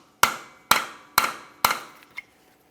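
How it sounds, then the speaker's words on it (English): A hammer drives a punch into the centre of a rear CV axle on a 2011-2021 Jeep Grand Cherokee, with four sharp, evenly spaced metallic strikes followed by a lighter fifth tap, loud and close. "continue on with a hammer and punch directly in the center of the axle"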